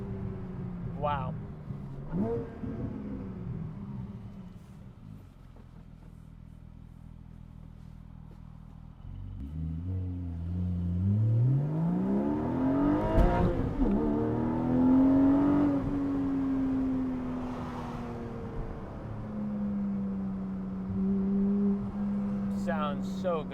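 A 2022 Porsche Boxster GTS 4.0 flat-six climbs through the revs under acceleration, rising in pitch through gear changes, heard from inside the car with a person talking over it at times.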